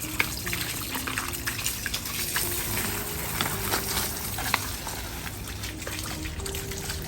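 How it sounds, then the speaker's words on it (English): Garden hose spraying water over a potted papyrus plant, washing dirt off the pot: a steady close trickle and splash of water running continuously throughout, with no talking. "Just gonna want to water this down. Wash off any extra dirt on the pot."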